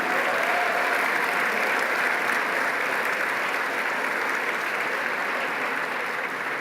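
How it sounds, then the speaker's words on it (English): Applause for former Congressman Lester Wolf at a statesmanship awards dinner, a large room of guests clapping in a steady, sustained roar that holds evenly throughout. "let's all please give Lester Wolf a round of applause"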